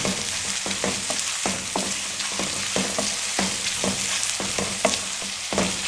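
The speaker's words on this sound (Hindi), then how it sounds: "अब हम प्याज़ों को ब्राउन कर लेंगे।" Sliced onions fry and brown in a pan for an aloo-anda gravy over a medium flame, a steady close sizzle broken by frequent scraping stirs.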